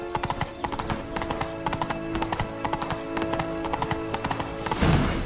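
A horse gallops in The Witcher 3: Wild Hunt – Blood and Wine, its hooves making a steady, rhythmic clip-clop close by throughout, with a louder burst right at the end.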